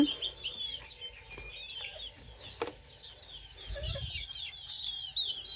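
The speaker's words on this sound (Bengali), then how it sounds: "এই যে দেখেন বড় মোরগটা করতেছে" A grown rooster in a backyard flock, with repeated nearby clucks and short throaty calls over faint chirping birds and low background rustle.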